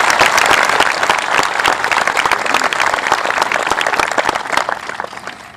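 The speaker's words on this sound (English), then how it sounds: "Would you please join me in applauding these students for their time, effort, and participation in our graduation ceremony today?" A graduation ceremony audience applauds a student band and choir with loud, dense clapping that stays strong throughout and eases slightly toward the end.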